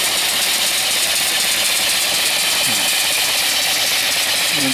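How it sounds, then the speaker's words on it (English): An antique-style reproduction steam engine runs off a coal-fired boiler and drives an alternator for off-grid DC power. It makes a loud, steady, close mechanical drone with a continuous even running rhythm. "I'm running coal in the boiler right now."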